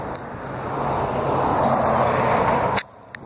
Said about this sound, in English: Ooh, there's a car.